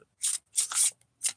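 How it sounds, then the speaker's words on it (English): A large tarot deck being shuffled by hand, three quick bursts of crisp riffling card noise, close and fairly quiet, with no talking. "This deck is so large, it's kind of hard to shuffle"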